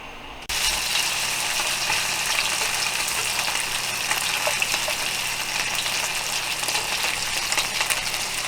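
Hilsa fish pieces fry in a pan with a loud, steady, broadband sizzle that starts abruptly and continues unbroken to the end, with no one talking.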